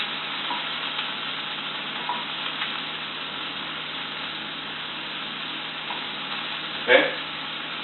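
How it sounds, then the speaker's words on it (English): Cut apples fry in a skillet that also holds flounder, a soft steady sizzle with a brief louder clatter near the end, and no talking over it. "Just add them on the skillet as it is."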